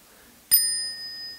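A small bell is struck once by a tea host at a tea gathering, a bright single ding that rings out clearly and decays slowly in a quiet room.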